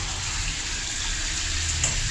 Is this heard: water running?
yes